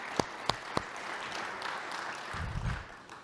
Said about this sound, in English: Round of applause to Tim and our crew model.